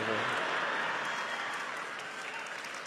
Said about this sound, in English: You're applauding because I'm still alive